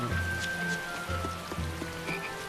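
Rain falling in a town in the video game Tales of Berseria, a steady soft patter on surfaces under faint low music tones, moderately quiet and continuous with no talk.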